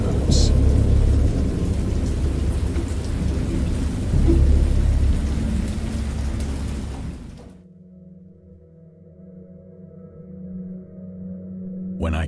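A thunderstorm with heavy rain and deep rumbling thunder roars loudly and continuously for about seven seconds, then cuts off abruptly, leaving only low sustained tones.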